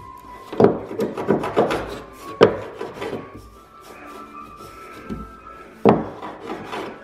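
Close, dry scraping and rasping of a wooden plug being trimmed flush on a wooden boat build, in several short uneven strokes with quiet gaps between them.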